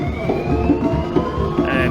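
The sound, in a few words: sirens wailing from a slow presidential motorcade convoy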